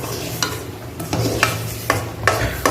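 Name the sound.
gram flour being stirred and sautéed in ghee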